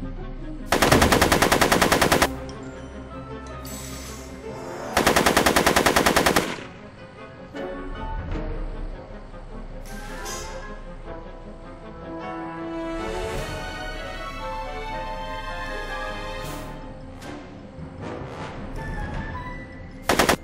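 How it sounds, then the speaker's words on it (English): Rapid machine-gun bursts in a movie shootout, two loud sustained volleys early on followed by scattered shots and sporadic fire under background sound. "Are you shooting at me?"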